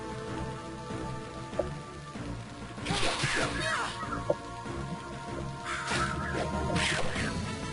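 A crow caws a few times in the GBA game Lord of the Rings: Return of the King, over a steady hiss of rain and game noise, with a person talking faintly underneath.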